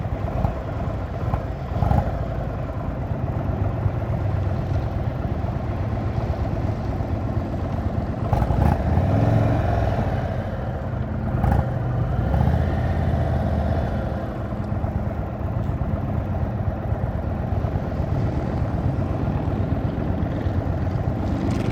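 A 2022 Indian Super Chief motorcycle engine rumbles steadily, idling low and even at close range, with a slight swell partway through.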